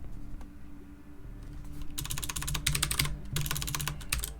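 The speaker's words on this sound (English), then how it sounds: "I'm still not used to this keyboard" Rapid clicking of computer keys, starting sparse and soft, then bursts of fast, close typing with brief pauses.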